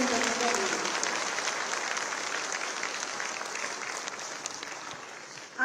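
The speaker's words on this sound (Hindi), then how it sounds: "आप सब अपनी तालियों के प्रणाम से उनका स्वागत और अभिनंदन करें" An audience applauds continuously at the inauguration of Khadi Mahotsav 2025, welcoming the chief minister with dense, even clapping throughout that fades slightly toward the end.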